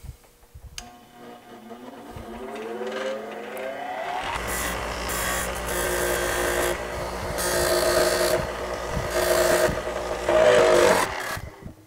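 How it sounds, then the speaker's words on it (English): A scotch-brite wheel deburring a machined metal part on a CNC-engraved widget: a motor spins up with a rising whine, then a loud continuous abrasive rasp and grind as the part is pressed against it, close and alone. "Let's fix it with one of the best things on earth, scotch-brite wheel."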